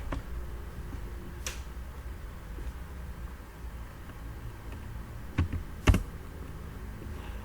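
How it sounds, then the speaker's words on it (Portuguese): Keys on a computer keyboard are pressed while entering software commands, with a few sharp, close clicks standing out against a quiet room hum, including two louder taps in quick succession near the end. "eu posso ativar esse comando pelo teclado também. Ó, Enter."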